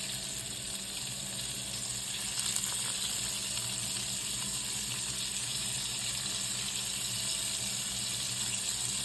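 Shrimp frying in bacon grease make a continuous loud sizzle, a steady hiss and crackle that stays even from start to end.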